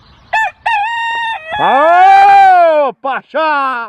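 A rooster crows loudly and close by: two short calls, then one long drawn-out crow, then a few clipped calls. No other sound is present.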